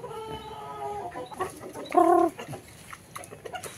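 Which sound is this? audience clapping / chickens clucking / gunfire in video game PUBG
chickens clucking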